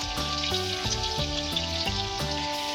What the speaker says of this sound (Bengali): এবার খানিকক্ষণ কষিয়ে নেব।